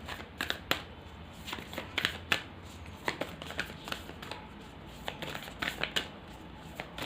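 Tarot cards are shuffled by hand in a continuous papery riffle of quick, light slaps and flutters lasting several seconds, close and fairly quiet, with no voice over it.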